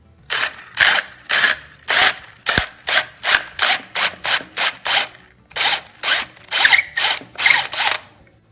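A drill bit grinds into a wooden dowel peg during furniture repair in a steady series of short, rhythmic bursts, about two per second, loud and close.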